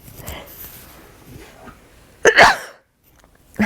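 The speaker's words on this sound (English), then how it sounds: "I think I'm going to sneeze here." A single sharp sneeze bursts out loudly after a stretch of quiet breathing and faint sounds, followed by a moment of silence.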